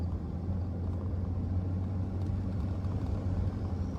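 A police patrol car moves slowly, giving off a steady low engine rumble heard from inside the cabin, with no one speaking.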